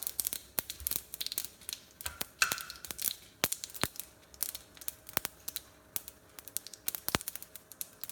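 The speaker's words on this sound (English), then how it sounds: "the mustard will start making this kind of a noise" Rapid, irregular crackling and popping, sharp little snaps scattered densely over a quiet background, like seeds spluttering in hot oil.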